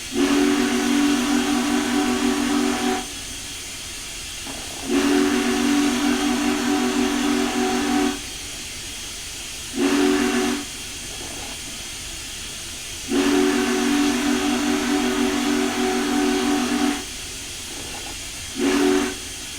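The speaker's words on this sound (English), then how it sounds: "What kind of whistle is that?" Union Pacific 844 steam locomotive whistle sounding in a series of long and short blasts, loud and sustained, separated by gaps of steady background hiss.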